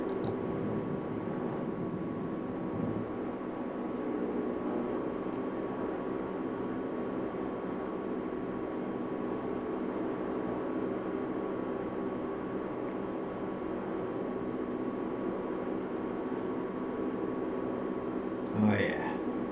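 The engines of a DHC-4 Caribou drone steadily in flight low over the sea, a constant loud cabin roar with a humming tone, and a voice speaking over it.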